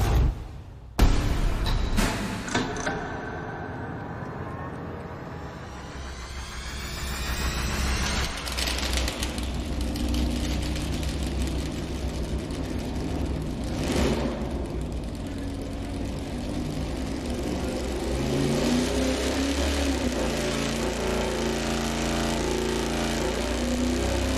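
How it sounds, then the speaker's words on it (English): An iron-head 440 V8 with a 106-degree lobe separation camshaft fires up on a dyno, settling into a loud, steady, rumbling idle and rev that fills the space without pause, with no voices over it. "we're gonna fire it up initially with the camshaft with 106 lobe separation angle"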